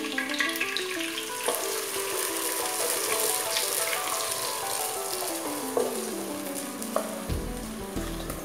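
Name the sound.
egg halwa mixture poured into hot pan, sizzling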